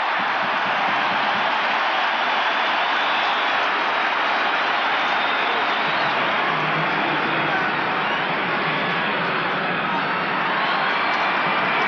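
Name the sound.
sellout football stadium crowd applauding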